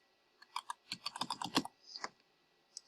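Quick bursts of typing on a computer keyboard, about a dozen close, crisp key clicks in an uneven rhythm with a few short pauses, heard alone in a quiet room.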